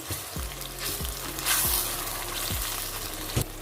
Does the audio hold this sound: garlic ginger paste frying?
yes